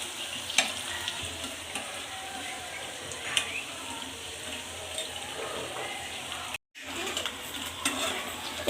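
Brinjal fritters made with rice flour fry in a pan with a continuous crackling sizzle, broken by a few scraping stirs and one short silent gap.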